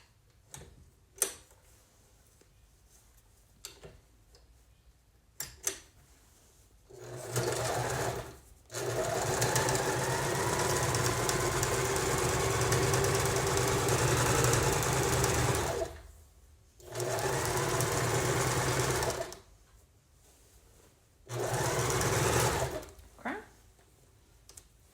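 Sewing machine stitching a quilt seam in several loud, steady whirring runs separated by quiet pauses with clicks and handling noises.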